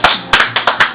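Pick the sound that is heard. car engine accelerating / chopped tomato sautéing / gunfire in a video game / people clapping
people clapping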